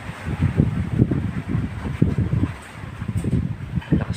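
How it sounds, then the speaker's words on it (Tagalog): Strong wind gusting around a caretaker's house in Batangas, a steady rough rumble with repeated buffeting surges against the microphone, fairly loud and with no one talking. "Medyo malakas po ang hangin po dito sa pinapantayan po namin bahay."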